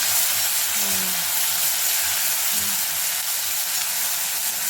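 Dried neem flowers hit hot oil for a Tamil neem flower kuzhambu, giving a steady, close, even sizzle with broad hiss across the whole stretch and no talking.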